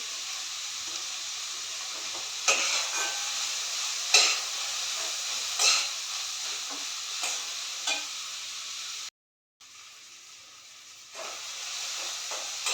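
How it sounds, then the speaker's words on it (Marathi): Tomatoes frying in a pan for pav bhaji, a soft steady sizzle and hiss with several sharp spatula scrapes and taps at intervals, briefly cut to silence before the frying resumes. "आता फक्त टॅमॅटो बोलतो टाकते थोडंसं त्यामुळे टॅमॅटो पटकन भाजून येईल"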